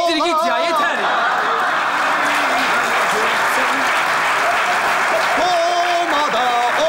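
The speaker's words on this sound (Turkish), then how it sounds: "Komada olanlar el çırpsın. El çırpsın." Studio audience in a Turkish comedy sketch show clapping steadily and loudly for the whole stretch, dense continuous applause with scattered chuckles and voices talking over it.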